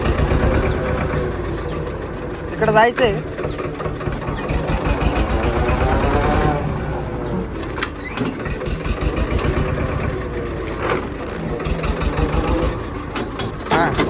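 A tractor engine runs with a steady low rumble and rapid chugging pulse throughout, close and loud, while people talk over it.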